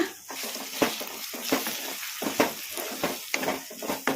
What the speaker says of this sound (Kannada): ಈಗ ಕಲಿಸ್ಕೊಂಬಿಡೋಣ.